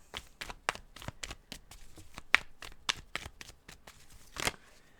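A deck of tarot cards is shuffled by hand close up, giving a quick series of crisp riffling flicks at a fairly steady rhythm, fairly quiet and with no talk.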